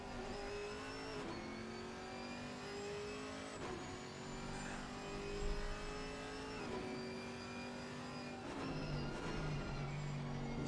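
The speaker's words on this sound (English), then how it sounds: "Sound of that Chevy engine." A Chevrolet GT4 race car engine in a racing video game at Spa, heard from the cockpit: a steady, loud high-revving drone that climbs through the gears with several sharp shift drops, continuous with no talking.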